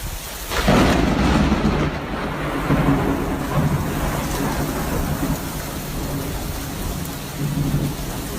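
A loud crack of thunder rolls out over steady heavy rain, followed by lower rumbling that fades under the downpour.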